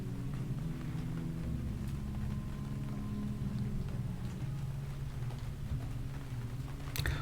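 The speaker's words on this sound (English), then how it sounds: "Listening to the rain in the strange barn." Steady rain patters on a barn in a 3D game scene, a soft, continuous ambient wash with a low rumble beneath and no voices.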